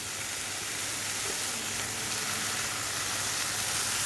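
Food for a quick dish sweetened with a little sugar being stirred in a frying pan, a steady bright sizzle and hiss running continuously with faint scraping, no talking.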